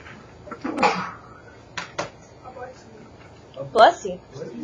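A sneeze bursts out during a classroom lecture on half-life, followed by a couple of smaller sharp sounds and a second louder sneeze-like burst near the end, with quiet room noise between.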